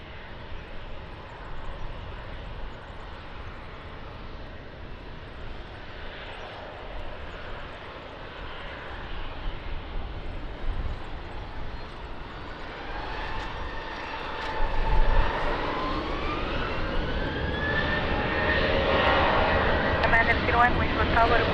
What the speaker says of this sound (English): Ryanair 42 Lima Victor, wind 120 degrees, 8 knots, runway 20, clear for takeoff